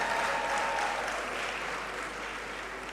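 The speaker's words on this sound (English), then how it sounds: "Clap for yourselves, you've really done well." Newly conferred graduates in a university great hall applaud themselves at a congregation ceremony, a soft, steady wash of clapping heard from a distance that gradually fades.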